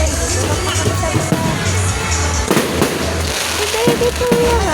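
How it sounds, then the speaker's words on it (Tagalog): Fireworks bursting outdoors, a dense steady crackle and popping with sharper bangs near the middle, heard alongside crowd noise and people talking. "Fireworks."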